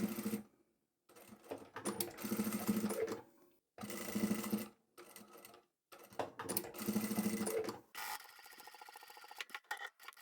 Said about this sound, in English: Top stitch these, and I'll stitch this tab onto the side